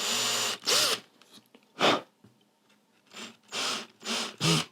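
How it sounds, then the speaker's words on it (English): A power drill boring into wood to remove a broken screw in a furniture rebuild, several short loud bursts of whirring separated by brief pauses, close to the microphone and alone. "drill a hole"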